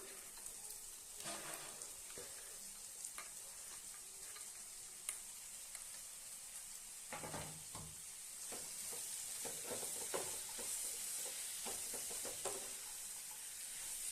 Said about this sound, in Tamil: கட் பண்ணி வச்ச பீக்கங்காயை இதில் சேர்த்துடலாம்